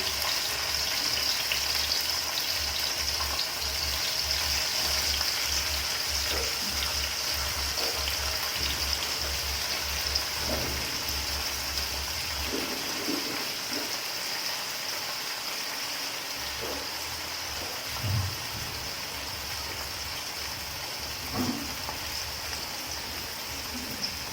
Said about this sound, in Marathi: आता जेवढे कढईत बसतील तेवढे मासे हे भाजून घेणार आहे मी